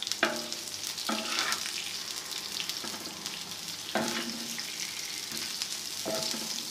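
Onions frying in a pan alongside mutton liver on a tawa, a continuous close sizzle broken by several sharper bursts as pieces are stirred and turned, with no talk.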